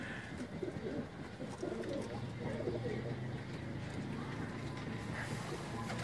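Pigeons of a Cheena and Teddy mixed breed coo softly and continuously amid a dense murmur of other birds, with a low steady hum underneath.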